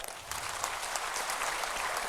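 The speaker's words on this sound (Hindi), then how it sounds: "चलो ब्राह्मणों के लिए जोरदार ताली बजाओ" Audience in a large hall at a Swami Ramdev event in Guwahati, Assam claps loudly on cue, a dense, steady roar of applause lasting the whole moment with no voices.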